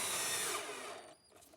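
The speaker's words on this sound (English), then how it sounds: "Now I'm just drilling and attaching the column with some screws." A power drill whirs steadily and loudly while driving screws into a wooden poker table column, then winds down near the end with a short trailing whine.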